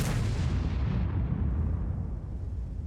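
A Batchat tank gun fires in an online tank battle game against an Object 261: one heavy close boom whose rumbling tail fades over a couple of seconds, with no voices.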